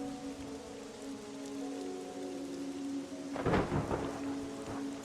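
Thunder cracks and rumbles during a rainstorm in the video game Monsters & Memories. Steady rain hisses throughout, then a loud, close thunderclap bursts out near the end.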